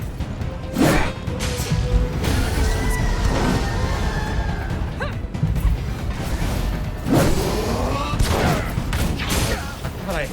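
Enemy gunners fire in the action game Code Vein, bursts of gunshots and crashing impacts layered over dense combat noise and whooshes, loud and continuous throughout.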